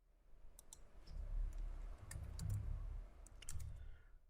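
Computer keys click in short bursts as numbers are entered, soft, close tapping in uneven clusters over a low background hum.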